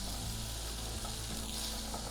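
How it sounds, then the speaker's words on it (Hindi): Red chilli powder, turmeric and spices fry in a pan, giving a steady, close, moderately loud sizzle with soft stirring and no speech. "1-2 मिनट ऐसे भी भूनेंगे"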